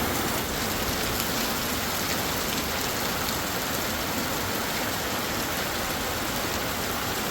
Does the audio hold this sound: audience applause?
no